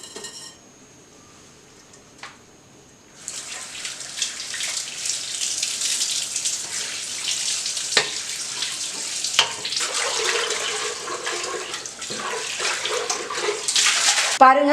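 A cleaned pressure cooker is washed under a running tap. Water gushes loud and steady after a quiet start, with occasional clanks of metal against the sink.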